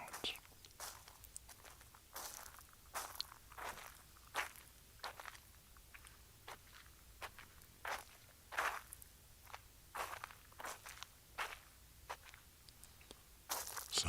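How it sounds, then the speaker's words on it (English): Crunchy footsteps outdoors along Del Monte in Monterey, a steady walking rhythm of close, sharp crunches repeating roughly every half second over a low background hiss. "I did record some walking sounds."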